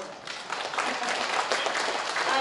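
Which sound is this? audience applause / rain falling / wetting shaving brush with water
audience applause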